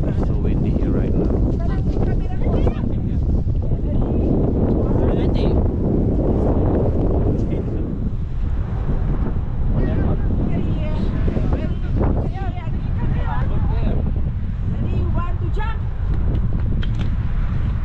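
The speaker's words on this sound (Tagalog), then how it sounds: "So windy here right now." Strong wind in Wellington city buffets the microphone with heavy, continuous roaring gusts that ease somewhat partway through, while voices talk faintly underneath.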